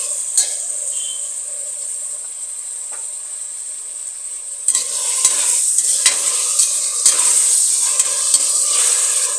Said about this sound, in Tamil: இதோ தக்காளியும் வதக்கிக்கலாம்.